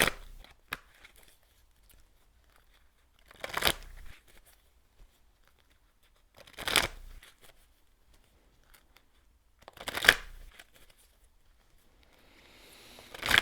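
Tarot cards are shuffled in a quiet room, heard as a few brief riffling bursts spaced a few seconds apart, soft and close, with near silence between them.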